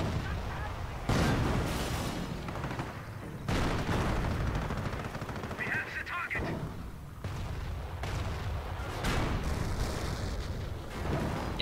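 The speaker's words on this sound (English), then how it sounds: "Oh shit, they got anti-tank guns." Anti-tank guns fire in the Company of Heroes video game, booming in repeated loud blasts amid a dense, continuous wash of battle noise, with speech mixed in.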